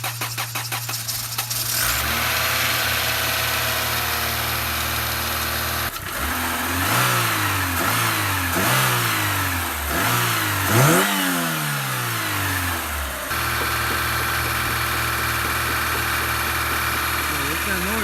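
A Honda Civic hatchback is jump-started: after a steady electrical hum, the starter cranks in several rising, rhythmic pulses before the engine catches and settles into a steady running drone.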